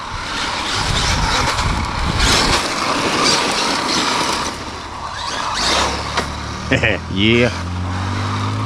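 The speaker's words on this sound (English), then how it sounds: "Okay, we got some wheelie action." A Traxxas Maxx Slash RC truck on 3.8-inch Badlands tires drives over a slippery surface and pulls a wheelie, its electric motor whirring with quick rising whines near the end over steady rolling noise, and someone speaks briefly.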